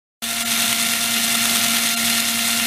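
The motor of a disassembled cordless drill whirs steadily at high speed, starting abruptly and holding a constant pitch throughout, close and loud.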